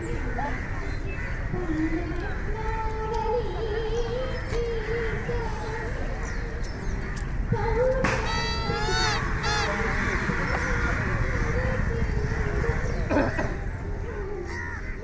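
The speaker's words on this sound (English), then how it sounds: "you've got the sound of the cawing of crows" Crows caw repeatedly over a busy outdoor scene in Fort Cochin, India, near the shoreline fishing nets and shacks, with voices talking in the background throughout.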